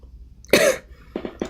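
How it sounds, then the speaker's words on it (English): A single sharp cough during a live art stream, followed by a few shorter throat-clearing coughs, close to the microphone. "I kind of expected to like start coughing during live stream, but it's like so torturous."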